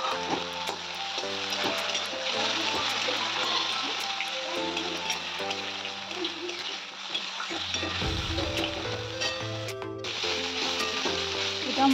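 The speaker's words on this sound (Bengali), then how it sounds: "এরপর আমি বাটা মশলাটা দিয়ে দিচ্ছি" Ground spice paste sizzles in a hot wok, loud and continuous, while being stirred. Soft tonal background sounds run underneath, with a short stirring scrape partway through.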